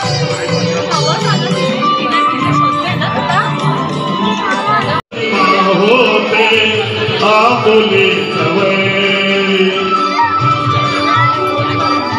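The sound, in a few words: crowd at Manori temple on Mahashivratri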